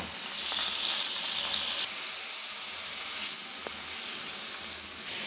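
Beef heart pieces sear in a hot pan, giving a loud, steady broadband sizzle that holds for several seconds and eases slightly partway through, with a few faint clinks and no voices.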